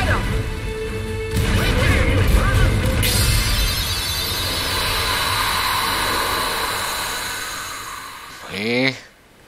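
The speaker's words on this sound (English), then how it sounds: "Ready the cannons." Ship cannons boom during a naval battle in Kingdom Hearts 3, a loud crashing blast followed by a long roaring rumble that fades, then a sharp whooshing burst near the end, with voices over the action.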